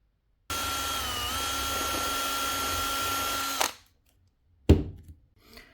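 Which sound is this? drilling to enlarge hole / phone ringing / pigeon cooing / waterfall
drilling to enlarge hole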